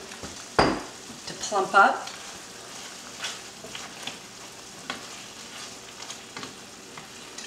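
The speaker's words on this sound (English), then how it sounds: "Now I'm going to add my prunes." Prunes hit a pan of chicken and apples with a sharp thump and rustle, then settle into a soft, steady sizzle with occasional light clicks of stirring. A voice briefly speaks near the start.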